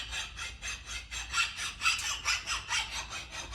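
A steel file sharpening an axe edge outdoors in the field, rasping in a steady back-and-forth rhythm of about ten close, even strokes with a harsh metallic scrape on each pass.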